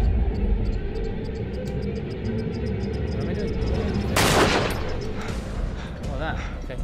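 Gunshots ring out in the horror game Until Dawn, a dense burst of loud blasts partway through layered over a steady background bed of game noise, with no talk over them.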